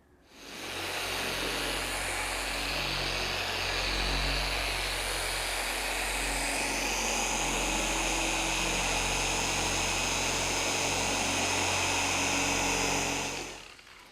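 A car paint polisher runs steadily during paint correction on a 2022 BMW G80 M3 Competition xDrive, a loud continuous whirring drone that holds for about thirteen seconds before cutting off.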